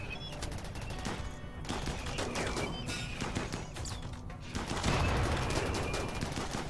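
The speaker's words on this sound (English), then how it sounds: "Shoot at Phoenix, not at me" Dense, continuous gunfire from a RimWorld battle fills the whole stretch, rapid volleys layered with crashes and a louder surge of shots near the end, with no talk.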